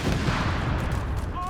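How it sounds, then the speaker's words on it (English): Company of Heroes 3 battlefield with an LG-40 anti-tank rifle firing at advancing American scouts: heavy, booming gunfire and explosive rumble filling the moment, with a short whistling tone near the end. "LG-40 firing there into the advancing American scouts"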